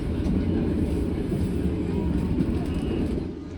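Inside the Pasundan economy-class train pulling away from Kertosono station on a Lebaran trip, a steady loud rolling rumble of wheels and carriage runs throughout, easing slightly at the very end.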